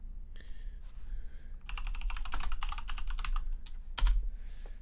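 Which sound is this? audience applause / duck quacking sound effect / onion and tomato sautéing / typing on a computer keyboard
typing on a computer keyboard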